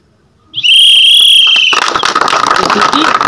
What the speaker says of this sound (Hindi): ये सीटी बजा करके